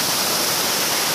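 Dense, continuous roar of the Cascada de la Alemana waterfall near Villacarmelo, Cali, a steady close rush of falling water with no pauses and no voices.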